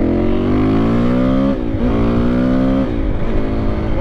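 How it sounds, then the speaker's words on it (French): A KTM 525 EXC enduro motorcycle engine revs hard close up, two loud rising pulls with a dip between them, then easing off near the end. "Donc là on va tester, on va voir ce que ça vaut un 525 EXC."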